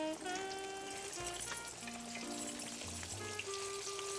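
A floured thin-cut pork chop sizzles and crackles in hot grease, a steady dense frying hiss with popping spatters, heard alone under faint tonal sounds.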